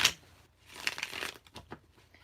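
Tarot cards being shuffled by hand: a few short riffling and slapping bursts, close and fairly quiet, separated by brief pauses.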